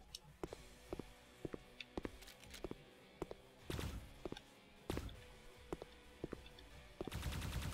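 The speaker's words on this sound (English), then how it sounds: "Why did it take 10 shots to flip that switch?" Repeated gunshots in a video game are fired at a switch, a long series of sharp, close reports spaced irregularly, some in quick pairs, ending in a denser burst.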